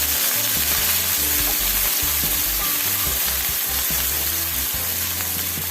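Meat fries in a pot with garlic, onion, pepper and green seasoning for Guyanese-style cook-up rice, giving a loud, steady sizzle with occasional stirring scrapes and no speech.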